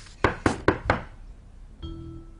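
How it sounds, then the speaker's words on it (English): Four sharp, evenly spaced knocks land on a door, close and firm, followed by quiet and a faint sustained tone. "Timmy thinks Princess better open the door."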